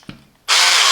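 Parkside PABH 20-li C3 cordless hammer drill starting up after a faint click, a sudden loud, steady high-pitched motor whine right at the microphone.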